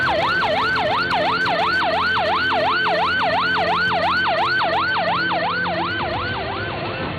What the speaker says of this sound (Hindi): शब्बीर को तेजी से दौड़ती हुई एम्बुलेंस की आवाज सुनाई देने लगी।